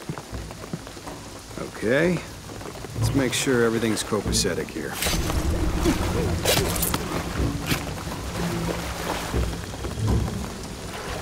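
Steady rain and distant thunder roll on in Shadow of the Tomb Raider, a continuous wash with occasional louder bursts, while voices talk over it throughout.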